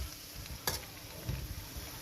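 Onions frying in a pan, a soft steady sizzle with a quick stirring scrape, quiet and close.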